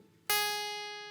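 A single guitar note is sounded by a little-finger pull-off without picking, in a chord tutorial. It is one sharp onset after near silence, then a clear ringing tone that fades slowly.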